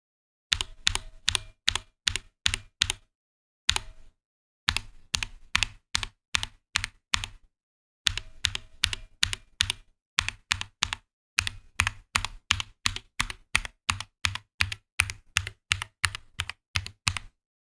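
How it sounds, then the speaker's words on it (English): Someone types on a DrunkDeer A75 mechanical keyboard with stock, unlubed springs. Crisp, close keystrokes come in quick regular runs with brief pauses, and a faint metallic spring ping rings under some of the presses. "try and listen to the difference between the G and H keys. Spring ping is present on the G but not on the H"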